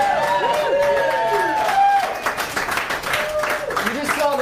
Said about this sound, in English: But I kind of like the applause tonight.